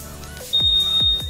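Buzzer on a 2021 Honda Scoopy scooter gives a steady high electronic tone that starts partway in and runs to the end, cut by three short, evenly spaced pulses over a quiet background.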